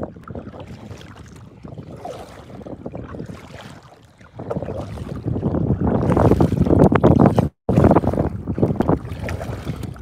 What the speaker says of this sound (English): Ah, the wind. The wind.